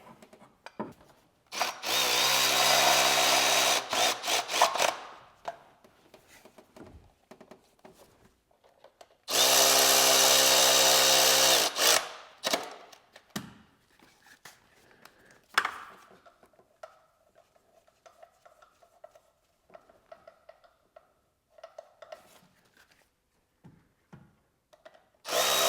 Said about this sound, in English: And now we can bolt back up the motor mount bracket.